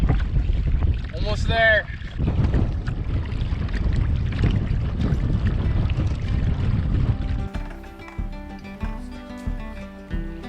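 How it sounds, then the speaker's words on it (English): A canoe being paddled on a Quetico lake straight into a strong, full-on headwind, with steady wind buffeting and water noise throughout and a voice speaking briefly near the start. "we're back to the usual full-on headwind."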